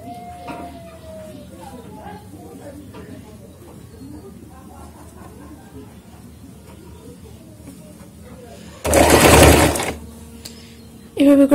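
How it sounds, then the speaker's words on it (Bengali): An electric sewing machine runs in one loud burst stitching a folded trouser hem, then starts again briefly at the end, following a quieter stretch of someone talking near the machine. "এভাবে করে ভাঁজ করে সেলাই করে দিচ্ছি"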